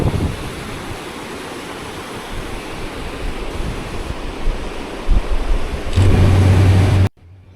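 A river rushes through the Bicaz Gorge, its water slightly limestone-tinted. It makes a loud, close, unbroken broadband roar, with no voices, and cuts off abruptly near the end.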